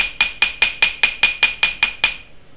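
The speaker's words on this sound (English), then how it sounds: "So now we're hammering like on the opposite side" A metal hammer strikes a wire paddle on a hard surface, about ten sharp ringing blows in a steady even rhythm, close and loud with no voices.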